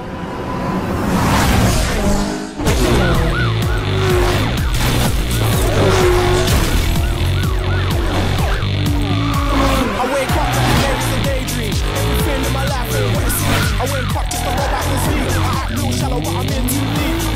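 Street race cars from the Need for Speed video game roar past with repeated tire squeals and skids, loud and close, under overlapping engine noise, with radio-style voices talking over the action.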